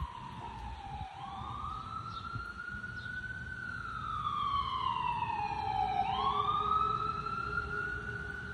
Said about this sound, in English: we have a lot of sirens going up and down the street